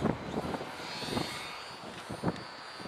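A toy airplane flies outdoors in strong wind, a faint buzzing motor drone running steadily under gusty wind noise, with a few soft thumps and rustles nearby.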